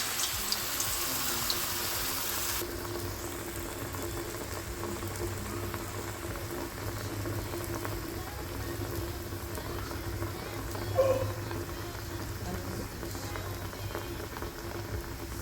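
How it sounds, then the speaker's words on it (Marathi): Urad dal vadas frying in hot oil on a low flame, a steady bubbling sizzle that runs throughout, with a brief louder splash partway through. "हातावर घेतल्यानंतर आपण हा वडा गरम केला टाकायचा आहे"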